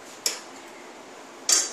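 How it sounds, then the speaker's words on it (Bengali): Spice paste, cauliflower and potatoes go into a vegetarian moong dal khichuri pot, marked by two bright metallic clanks of utensil on pot, one alone and one a moment later, over quiet hiss. "এবারে আমি ওই মশলাটা এবং ফুলকপি আলু সব দিয়ে দেব"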